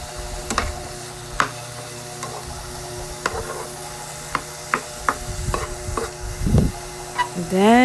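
Ground pork being stirred in a pan with tomato and red pepper, giving scattered scraping clicks and spoon taps over a soft, steady sizzle, close and moderately loud with no talking.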